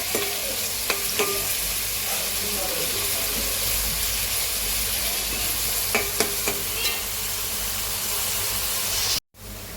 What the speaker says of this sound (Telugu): ఉల్లిపాయలు వేగిపోయినాయండి